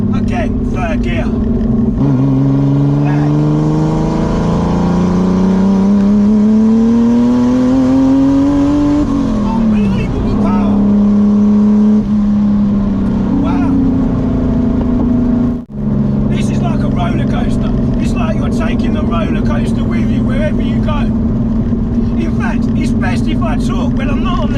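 A turbocharged, 500 whp S50-swapped BMW E30 accelerates hard in third gear with a loud, rising engine roar that climbs in pitch, breaks briefly at a shift, then keeps pulling strongly close up.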